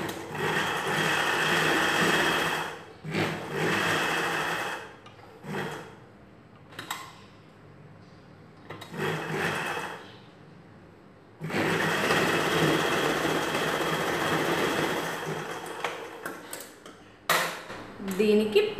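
A sewing machine stitches a blouse in several bursts of fast, even whirring clatter, separated by quiet pauses with small handling noises.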